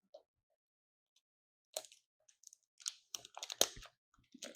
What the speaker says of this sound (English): Oh, getting the plastic off.